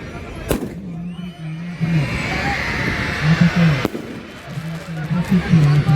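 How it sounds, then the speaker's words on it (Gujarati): Two heavy booms from large firework bombs launched and bursting at a Bhavnagar Ravan Dahan Dussehra event, spaced a few seconds apart over crowd noise while someone talks throughout. "જો આ પ્રકારે ખૂબ વિશાળકાય બોમ્બની પણ આતિશબાજી થઈ રહી છે"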